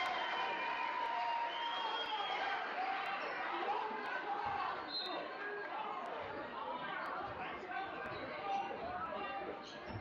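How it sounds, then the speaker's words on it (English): Crowd noise fills a high school basketball gym in Robbinsville, steady chatter and cheering throughout, with a commentator's voice and occasional ball bounces over the din. "Crowd at a fever pitch here in the gym."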